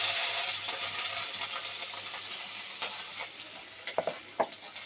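Nigella seeds and green chillies sizzle steadily in hot oil, a bright, close frying hiss that slowly fades, with a few light clinks and stirring taps near the end and no talking.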